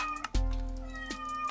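A cat meows twice in the Minecraft modpack Sky Factory 3, close and loud with clear harmonic tones, the calls spaced under a second apart.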